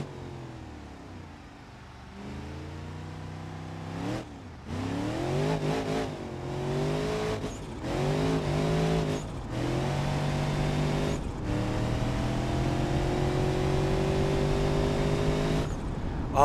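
A turbocharged Rotsun car races in the BeamNG.drive driving game, its engine revving up hard through repeated gear changes, each shift dropping the pitch before it climbs again, then holding a loud sustained drone near the end.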